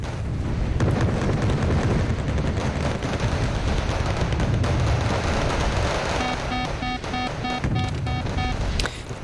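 Explosions and crackling gunfire in the Wargame Red Dragon battle game as a tank is hit by an RPG, with a dense, loud roar of blasts and rattling shots throughout and a sharp burst near the end.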